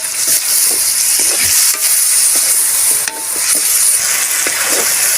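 Meat and seasoning, including pepper, stirred and frying in a pan for Filipino pansit miki guisado, a steady close sizzle with scraping spoon strokes throughout, with no talk.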